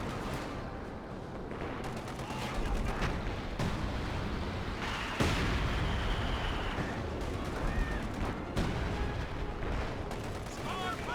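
Anti-tank fire from units in the video game Company of Heroes 2, a dense battle bed of repeated booming cannon shots and gunfire with a few sharper bangs standing out, continuous and fairly loud, with a voice talking over it.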